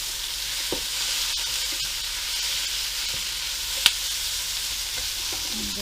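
Pork sizzling in a pan with onions and mushrooms, a steady bright frying hiss with a few small clicks and one sharp tap of a utensil, close by with no talking.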